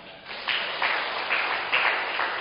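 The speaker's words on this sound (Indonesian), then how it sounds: "Tepuk tangan" Church congregation at a Sunday sermon giving a short round of applause, moderately loud clapping in several pulsing swells, muffled and slightly distant.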